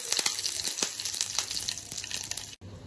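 Mustard seeds, chillies, onion and dal fry in hot oil with a steady, close sizzle and crackle, with occasional popping throughout.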